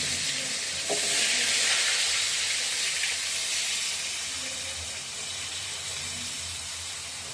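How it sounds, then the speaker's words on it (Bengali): Fish slid into hot oil in a home kitchen pan, a steady bright sizzle and hiss with a soft splash-like onset near the start, frying on continuously and easing slightly toward the end, close and alone. "আর এদিকে আমি মাছটা ছেড়ে দিচ্ছি, তেল গরম হয়ে গেছে, মাছটা দিয়ে দিচ্ছি"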